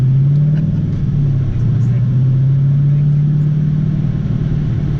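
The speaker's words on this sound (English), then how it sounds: "So, car's ripping pretty solid." The engine of a Fox body car, called the Terminator Fox, runs loud and close with a deep, steady rumble and a slight rise in pitch as it revs, sustained for five seconds with a voice faintly underneath.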